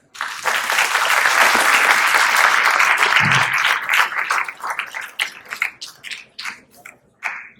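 Audience at a Unity Dinner applauding to welcome Attorney General Rob Bonta to the stage, loud dense clapping that swells, holds for several seconds, then thins into scattered claps.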